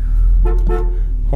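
A 1964 Chevrolet Chevelle sounds its horn in two short, loud honks close by, heard over a low idling engine rumble.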